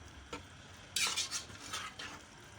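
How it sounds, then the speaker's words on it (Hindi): Minced meat keema fries quietly in a pan while a spoon scrapes and stirs it in a few distinct strokes, the sizzle faint beneath the clatter. "अब इसको इतना भूनूंगी कि ये अच्छी तरह फ्राई हो जाए, इसका कलर चेंज हो जाए"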